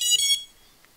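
An Eachine Tyro99 FPV racing drone's ESCs give a short burst of high-pitched electronic beeps just after its battery is plugged in, close and clear, then fall quiet apart from a faint final blip.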